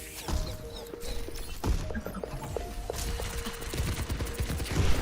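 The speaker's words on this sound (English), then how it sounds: "Widow's behind us. We definitely want to be looking at her. Yeah, we can hear those shots." Widowmaker sniper rifle shots in the video game Overwatch 2, heard in a match on the Dorado map amid busy in-game action; several sharp cracks and pops sit over a dense mix of game sounds and effects.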